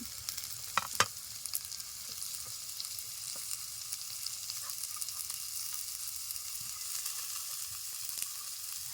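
Chopped onion and carrot fry in a pan for chicken momo filling, giving a continuous close sizzle with a few sharper spatters and clinks at the start, no voices.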